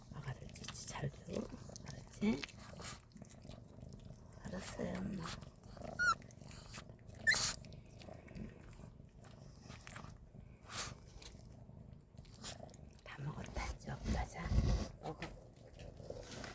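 Dog eating its food, with faint chewing and biting sounds and an occasional low growl over about sixteen seconds, while people talk quietly nearby.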